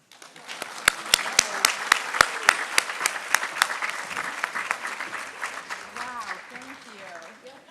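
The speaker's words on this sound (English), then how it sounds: "I would like to give a huge round of applause" Audience at a community foundation's annual meeting applauds, with a few loud single claps standing out early before the clapping thins and fades, and a speaker's voice comes in toward the end.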